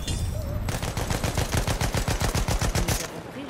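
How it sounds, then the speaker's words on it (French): Rapid machine gun fire from Battlefield 1 trench warfare, a dense run of evenly spaced loud bursts lasting about two and a half seconds, then breaking off into quieter game ambience. "J'ai repéré une mitrailleuse."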